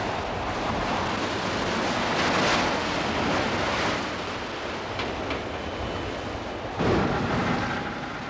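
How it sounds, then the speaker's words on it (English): A heavy storm rages at sea over a shipwreck salvage site, with force 9 to 10 winds: continuous roaring wind and crashing surf, with thunder-like bursts partway through and another sharp surge near the end. "Heavy storms, normally not prevailing at this time of the year, rage across the wreck."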